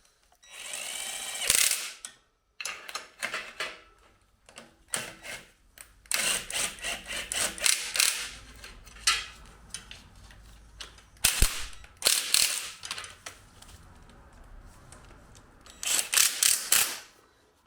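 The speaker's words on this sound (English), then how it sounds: "the threads have all started on them, so I can run them home now with the impact gun" An impact gun runs home starter motor bolts on a Mazda MX-5 during an engine and automatic gearbox install, loud close rattling bursts of hammering, each lasting a second or two, separated by quiet pauses.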